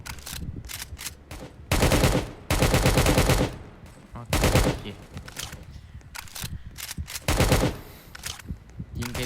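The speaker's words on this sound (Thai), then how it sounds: "เดี๋ยวนี้ยิงไปมั่วหมด" Rapid automatic gunfire in the Roblox Prison Life game, coming in loud repeated bursts with brief gaps, and a faint voice audible in the background.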